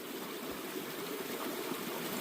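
Water spraying from a squeezed snuffer bottle during gold panning, a steady close hiss and trickle running unbroken with no talk.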